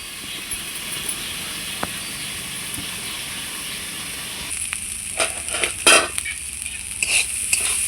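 A potol and potato curry is stirred in a pan over a constant frying hiss. A spatula scrapes and knocks in a few bursts in the second half, close and fairly loud.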